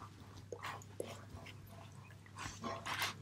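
A pet dog gives soft, thin whimpers and small vocal squeaks in a few short bursts, faint and close, with slightly busier noise toward the end.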